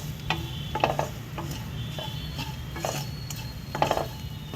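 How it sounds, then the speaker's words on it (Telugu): Salted potatoes being tossed and mixed in a pan, quiet sizzling beneath several irregular scrapes and light clinks of a utensil against the metal. "అన్నీ చక్కగా ఈ 3 రకాలు దుంపలకి పట్టేలా ఒకసారి కలిపేసుకోవాలి."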